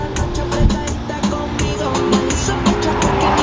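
Car traffic passes on a mountain road in Liechtenstein, with a steady engine hum and several vehicles rushing by up close in quick succession.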